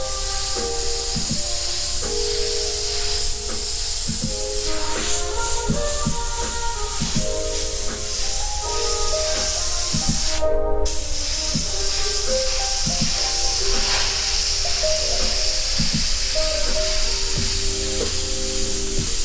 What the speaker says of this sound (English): This is that master airbrush, by the way, that I did a review on.